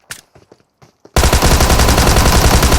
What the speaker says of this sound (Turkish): önünden ateş sesleri geliyordu